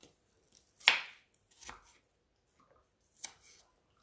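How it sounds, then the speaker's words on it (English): Fresh strawberries cut with a knife on a board: a few sharp, quiet chops spaced apart with near-silence between them. "take those other pieces that I do got leftover strawberry right here, cut these up."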